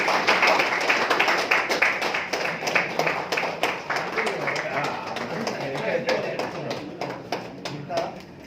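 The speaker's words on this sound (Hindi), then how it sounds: "जोरदार तालियों से स्वागत कीजिए।" An audience at a community welfare workers' evening event at an Academy of Fine Arts claps, a dense patter of many hands that stays loud and fairly even throughout, with a voice speaking over the applause.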